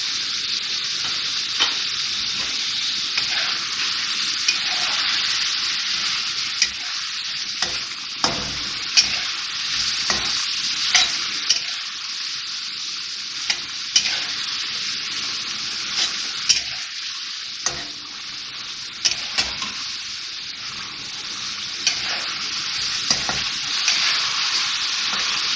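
Beef karahi, just dosed with chopped green chillies, sizzles and fries in a pan while a spoon stirs it, scraping at irregular intervals over a continuous hiss, with no talking.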